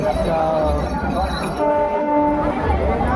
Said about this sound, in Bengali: ট্রেন কিন্তু একদম প্রায় 15তে চলছে।